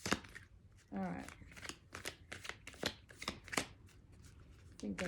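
Playing cards are riffled in short bursts, with softer card handling and taps between shuffles and quiet voices nearby.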